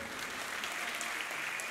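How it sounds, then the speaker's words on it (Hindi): Audience applause at a music concert honouring an event sponsor, a steady dense patter of many hands clapping together, continuous and fairly loud throughout without any voices. "तो उनके लिए तालियों की एक गूंज हो।"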